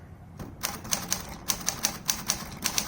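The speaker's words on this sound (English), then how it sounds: "Let's go ahead and give this a typing test." Crisp mechanical clacks of a 1941 Smith Corona Sterling manual typewriter's keys strike one after another in an uneven rhythm, close and clear, with no voices.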